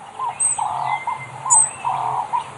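Forest birds chirp and call in short repeated bursts, clear and fairly close, with a soft cooing tone underneath and no voices.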